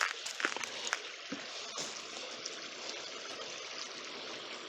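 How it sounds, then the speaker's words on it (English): A small creek trickles and gurgles steadily, a soft continuous wash of running water with a few brief splashes near the start. "Goes across a little creek."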